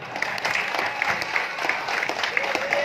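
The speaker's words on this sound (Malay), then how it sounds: "Beri tepukan." Audience clapping at a political meet-and-greet event in Tanjung Aru, a steady sustained round of applause filling the room at moderate loudness.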